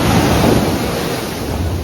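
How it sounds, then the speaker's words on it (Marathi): Ocean waves wash in at Keri beach in Goa as a dense, continuous roar of surf, with strong wind buffeting the microphone throughout. "अरे पाणी बघा असं आता लाटा येतात."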